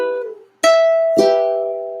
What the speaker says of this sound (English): That means we're going to roll top string to bottom